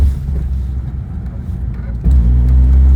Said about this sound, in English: Third gear pull, full throttle.